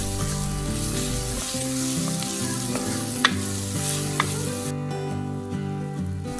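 Sliced onion with salt and turmeric sautéing in a pan with curry leaves, a steady close sizzle with a few sharp spoon clinks against the pan, no talk.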